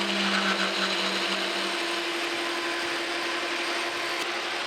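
Metal lathe chamfering the edge of a long steel shaft in a workshop, a steady mechanical whir with a sustained tonal hum and faint scraping, the pitch shifting slightly partway as the cut changes.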